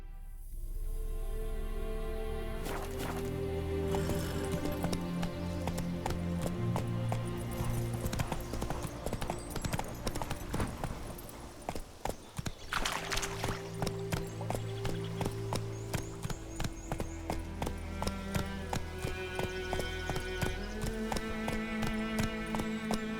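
Roach, a horse in The Witcher 3, running with rhythmic hoof clip-clop over a swelling musical score, steady footfalls continuing throughout at moderate volume.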